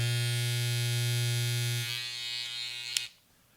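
Loud, steady electric buzzing from a Babyliss hair trimmer blade and cam follower with a strong hum, running continuously, then easing off and cutting out after a brief click.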